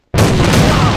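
A grenade explosion in the video game AVA hits abruptly after a moment of silence, loud and close, then holds as a broad, rumbling roar.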